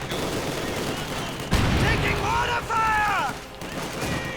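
Machine gun fire and explosions in a Company of Heroes 2 multiplayer battle: dense, continuous gunfire and booms with a loud impact partway through, whistling shell tones, and a commentator talking over the fighting.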